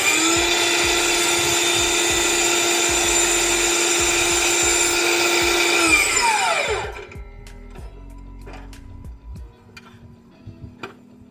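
A DeWalt flexible saw cutting a piece of trim runs as a loud, steady, high-pitched whine for about six seconds, then winds down. A few light handling knocks and clicks follow in the quiet afterward.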